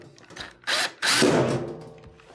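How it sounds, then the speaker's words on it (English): Power screwdriver driving a screw to fasten the back panel of a Frigidaire washer, with two short whirring bursts followed by a longer ratcheting spin, close and loud. "secure the panel with the top screw"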